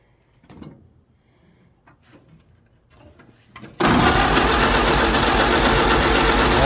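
An old Ford Model A engine catches and runs loud and rough right after a few faint clicks and shuffles, a dense sputtering roar that holds steady to the end.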